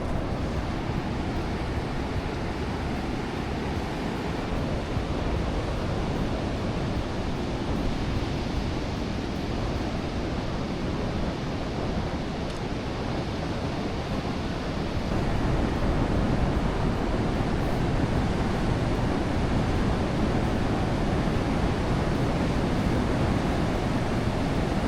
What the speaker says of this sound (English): I can see the waves are breaking right near the arch now.